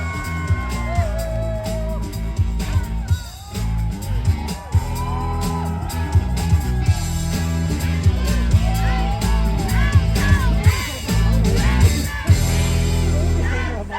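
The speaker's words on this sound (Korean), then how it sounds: "박수 부탁드립니다." A concert crowd at an outdoor picnic concert in Ulju whoops, shouts and cheers continuously beneath music, with a loud, dense wash of voices.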